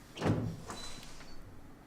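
A door opens in Resident Evil HD Remaster on PC: a sharp heavy thud up front, then a fading creak and scrape.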